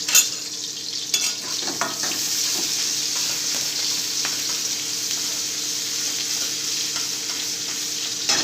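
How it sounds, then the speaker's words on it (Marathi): Onion browning in a pan on the stove, with a steady sizzle that runs throughout and repeated scraping stirs, loud and close, with no voices. "आता टाकायचा मैत्रिणी कांदा कांदा चांगला ब्राऊन होऊ द्यायचा"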